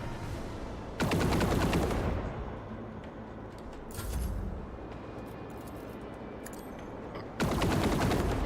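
Ship weapons firing on an enemy frigate in the Rogue Trader game: two loud bursts of rapid gunfire several seconds apart, separated by quieter rumbling space-battle ambience and a softer boom.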